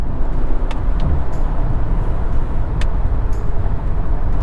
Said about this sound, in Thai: เนี่ยผมก็แท่คันเร่งดูครับ พุ่งอยู่นะครับ 120 แล้วนะครับ 140 แล้วครับ